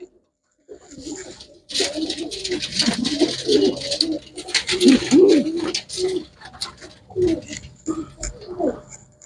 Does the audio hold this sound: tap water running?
no